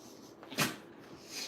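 A bully-breed dog sneezes once, a short sharp burst of breath standing out against a quiet indoor room.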